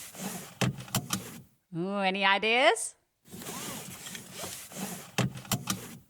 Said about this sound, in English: If you guessed buckling up your seatbelt